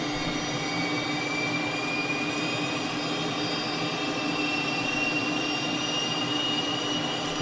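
Cessna T-37B Tweet jet engine in Microsoft Flight Simulator spooling up as a steady, fairly quiet whine and rushing roar, with a thin tone slowly climbing in pitch while the engine starts.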